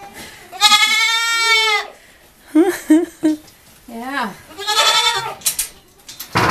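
Baby goats in a barn pen, set where a hay manger once stood, bleat loudly and close in several wavering cries, with a person briefly speaking between them.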